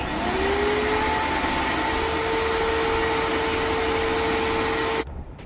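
A remote-controlled electric hoist for lifting party rental tents gives a loud, steady motor whine with a constant hum, running alone and unbroken until it cuts off abruptly near the end.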